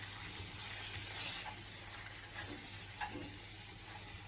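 Millet dough for adhirasam being mixed with a little hot water, giving a soft, steady wet stirring and scraping texture with a few small clicks, close and fairly quiet, with no voices.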